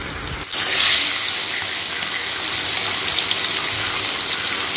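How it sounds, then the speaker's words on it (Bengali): Fish sizzling as they are fried in hot oil in a kadai, a loud, steady broadband hiss that swells at the start and then holds evenly with no talk. "এবার এক এক করে গরম তেলের মধ্যে মাছগুলোকে ভালো করে"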